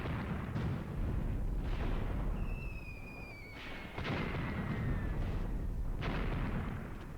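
Artillery fire in the World War II tactics game Graviteam Tactics, with repeated low rumbling booms and distant shell impacts rolling across the battlefield, a brief whistling tone passing in between.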